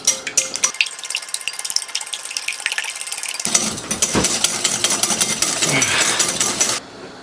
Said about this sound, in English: So turn it in the side and start whisking it.